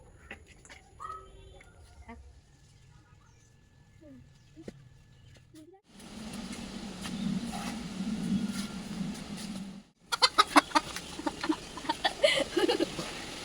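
A fierce desi rooster, tied up in a village yard, gives short, intermittent clucks amid background noise, with people talking nearby.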